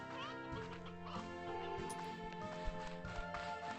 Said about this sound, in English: Okay, chickens, you behave while I'm gone.